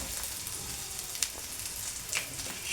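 Mustard seeds and other tempering spices crackle and pop in hot oil for a Dondakaya (ivy gourd) coconut curry, a steady sizzle broken by a few sharp pops, close and fairly faint.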